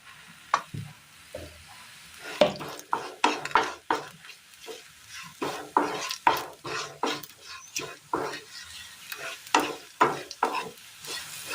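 Low sizzle of chillies frying in oil under frequent scraping and clinking of a spoon stirring in a pan, irregular strokes throughout.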